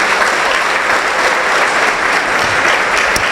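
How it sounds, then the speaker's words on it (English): An audience at an awards gala applauds loudly and steadily, a dense wash of many hands clapping close by throughout with no voices over it. "Please give them a round of applause."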